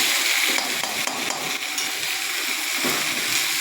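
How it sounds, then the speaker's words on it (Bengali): A paste of ginger, cumin, garlic, onion and green chilli stir-fried in a pan for chicken curry, giving a steady broadband sizzle with scraping stirring strokes throughout, close and alone. "আমি সবগুলো একবারে দিয়ে কষতে লাগলাম"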